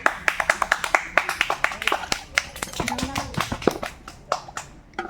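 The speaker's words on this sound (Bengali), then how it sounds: "রক্তিমার জন্য সকলে একটু জোরসে হাততালি দেবে" A small group claps in quick, scattered bursts for a girl who won a children's game, the claps ragged and close while kids chatter underneath.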